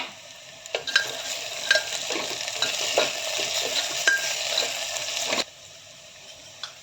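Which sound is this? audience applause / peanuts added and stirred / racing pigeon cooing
peanuts added and stirred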